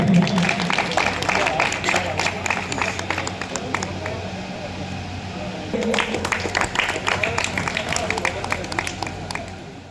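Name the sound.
loud applause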